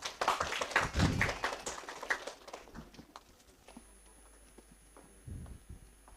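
Audience applause for the next speaker at a university English speech contest: a dense burst of clapping that fades over a few seconds, followed by a near-quiet room with a faint hum and scattered taps.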